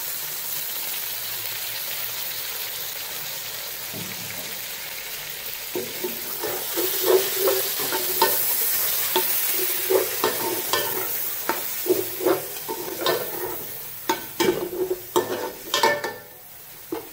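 Tomatoes frying in a pan for an aloo matar pulao sizzle steadily after a splash of water is added, then a spoon scrapes and stirs in irregular bursts that grow louder near the end.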